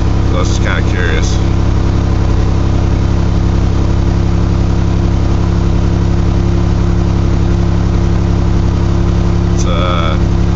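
A carbureted 2.8 V6 in a 1982 GMC S-15 with a 5-speed idles steadily at close range, its low rumble constant through the clip, while a voice speaks briefly near the start and again at the end.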